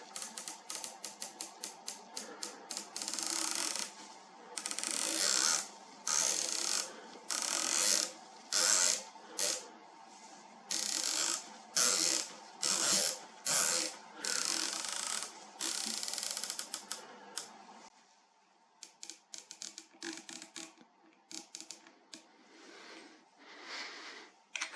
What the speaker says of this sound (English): let's test these turrets, which is probably the second most important part of any optic, being the turret test